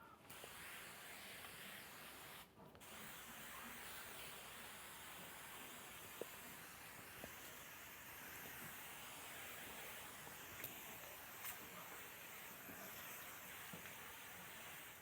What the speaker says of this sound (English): Sometimes it's a good idea to mist the wall, leave it for 10-20 minutes, come back and mist it again.